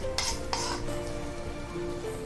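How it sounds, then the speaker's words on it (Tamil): Ground paste for a paneer gravy sautés in a pan, a low steady sizzle broken by a couple of quick scraping stirs from a spoon early on, close and moderately loud. "அரைச்சி வச்சுருக்க விழுதை போட்டிருக்கோம், வதங்கட்டும்."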